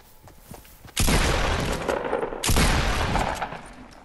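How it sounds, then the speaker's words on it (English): Gunfire in the video game Fortnite: two sudden loud bursts of rapid shots, the first at about one second and a second volley soon after, each trailing off, with no talk over them. "Somebody shooting?"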